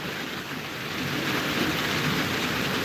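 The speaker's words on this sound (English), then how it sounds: "during our streams, it normally rains" Steady heavy rain falls as a dense, even hiss that keeps up without a break, close and loud, with no voices over it.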